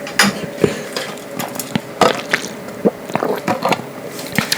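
A hair clip snaps and ratchets shut close to the microphone in an ASMR makeup setting, a series of sharp clicks and small plastic clacks spread unevenly across a few seconds, crisp and intimate.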